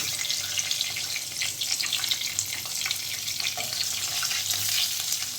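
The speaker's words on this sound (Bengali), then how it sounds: "পনিরগুলো কিন্তু ভাজা হয়ে গিয়েছে, যেগুলো দিয়েছিলাম লাল লাল করে" Paneer pieces frying in a pan, a steady close sizzle with light scraping and stirring throughout, no talk.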